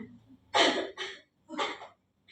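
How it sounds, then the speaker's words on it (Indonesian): Three harsh, breathy coughs in quick succession, fairly close, with short pauses between them and no talking. "Dengar, ada yang batuk."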